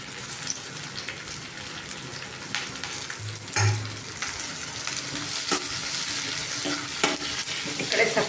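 Chopped onions and curry leaves sizzle steadily in a hot pan, with a continuous bright frying hiss, a few louder spatters and stirring clinks, close and alone with no voices.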